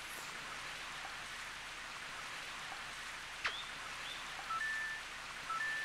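Steady rain hiss falls in the Nintendo 64 game Mario Golf, an even wash of rainfall throughout with a brief sharp game sound midway and faint chimes near the end.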